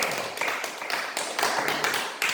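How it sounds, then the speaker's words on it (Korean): A church congregation applauding at an evangelistic meeting, steady dense clapping from many hands filling the room at close range, with no voices clearly heard. "하나님께 영광의 박수 먼저 한번"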